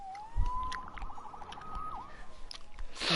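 A police siren wails and warbles in the Spider-Man PS4 video game, rising then oscillating quickly at moderate volume, heard briefly over faint background game noise.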